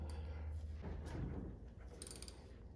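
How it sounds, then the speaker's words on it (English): Ratchet loosening a drain plug with a 5/16 socket on a HMMWV geared hub, heard as quick, close metallic clicks and scrapes of the tool over a low background hum. "Gonna loosen this drain plug with a 5/16."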